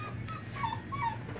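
An excited dog whimpers in a few faint, high, thin whines over a low background hum, close by but quiet.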